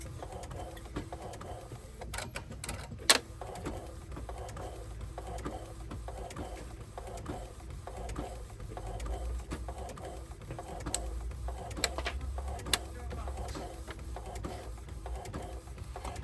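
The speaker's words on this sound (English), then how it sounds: "Looks like it's back to printing beautiful again." Epson ET-8850 inkjet printer running a print job after its print head was unclogged, giving a steady mechanical whir with repeated carriage clicks and shuttling passes at moderate level, alone.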